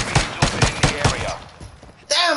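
Rapid bursts of gunfire in a PS4 shooter game ring out close and loud, about five sharp evenly spaced shots followed by a lull and a final burst.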